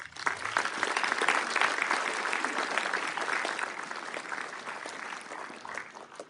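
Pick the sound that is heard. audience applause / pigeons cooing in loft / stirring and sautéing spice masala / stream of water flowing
audience applause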